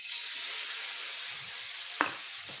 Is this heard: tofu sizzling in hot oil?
yes